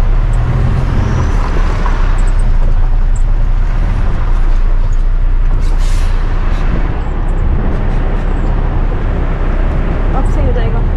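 A truck on a Canadian highway in heavy rain rumbles steadily while backing up, low engine and road noise filling the scene with constant rain wash, and a voice talking over it.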